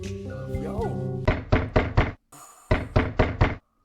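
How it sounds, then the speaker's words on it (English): Loud, close banging on a door comes in two rapid sets of four heavy knocks with a short pause between them. Background speech and sound are heard before the first set. "Who's banging on the door?"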